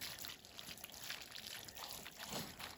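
A water hose washes down a scalded pig's carcass during scraping, giving a steady, moderately quiet splashing trickle with broad hiss that runs throughout without pause.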